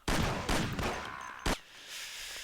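Gunfire in the video game Mafia: several loud rapid shots in a quick burst, then one more sharp shot after a short gap, all close and with no talk over them.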